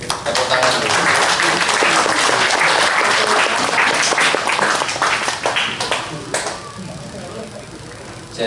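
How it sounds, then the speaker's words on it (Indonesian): An audience in Kediri claps loudly and densely for several seconds, then the applause thins and fades toward the end. There are no voices over it. "Tepuk tangan dulu"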